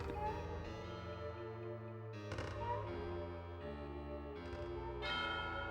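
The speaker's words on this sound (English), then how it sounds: "I hear the bell again" Bell tolling in the video game King's Field, a steady sustained chime with several repeated strikes over a continuous ringing tone, fairly loud and clear with no talk over it.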